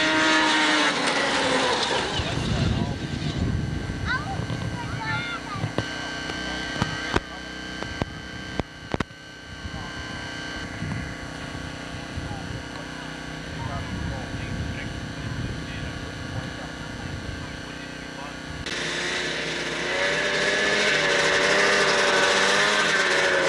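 Snowmobiles at the 1988 Vermont State Championship grass drags in New Hampshire-area racing, their engines roaring steadily throughout with a louder surge near the end, while a voice talks over the drone.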